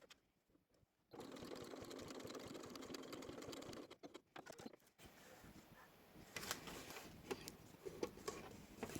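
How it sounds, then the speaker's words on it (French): A domestic sewing machine topstitches close to the edge of fabric for a small coin purse, a fast rattling whir in two runs split by a short pause, then quieter mechanical clicks and handling noises nearby. "je viens faire une surpiqûre au plus près du bord"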